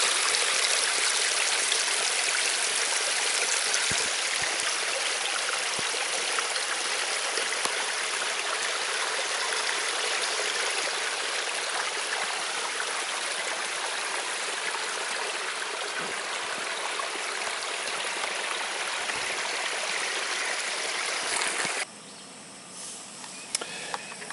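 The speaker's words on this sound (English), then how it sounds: "Just watching clear water flow." Clear stream flowing over rocks in the bush on a cool morning, a steady broad rushing and babbling close by that holds for a long stretch before dropping sharply near the end.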